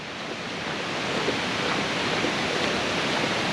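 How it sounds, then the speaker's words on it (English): A big waterfall in Alva Glen roars as a steady, dense broadband rush of falling water, close and continuous, swelling slightly after the first second with no voices. "That's a big waterfall."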